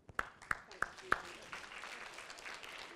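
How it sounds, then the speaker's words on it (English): Weak, sparse applause for a teammate from a small audience, a handful of distinct claps that quickly fade into faint scattered clapping and room murmur. "That is a weak applause for your teammate."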